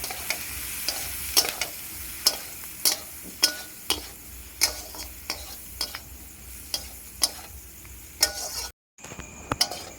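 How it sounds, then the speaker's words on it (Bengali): Food frying with salt and Kashmiri chilli powder in a pan sizzles underneath a regular series of sharp spatula scrapes and taps against the metal. A brief drop to near silence comes just before the end. "পরিমাণ মতো লবণ, ভালোভাবে ভেজে নেব।"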